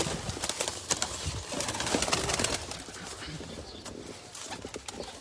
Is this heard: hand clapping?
no